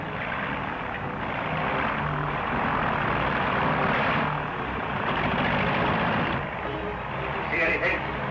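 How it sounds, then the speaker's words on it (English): A 1939 propeller plane drones overhead, a steady engine hum that swells and fades gently throughout, with brief voices near the end. "That's my plane."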